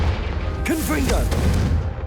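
A Confringo fire spell in Hogwarts Legacy goes off as a short fiery burst with a whooshing crackle, loud and close, right after a character shouts the incantation.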